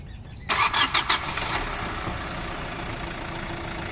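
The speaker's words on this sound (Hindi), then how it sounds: "ये है इंजन का साउंड, बिल्कुल पेट्रोल गाड़ी की तरह" A Hyundai Creta diesel engine, due for an overhaul after high mileage, cranks briefly with a few rapid pulses, fires, then settles into a steady, moderately loud idle heard close up, with no talking.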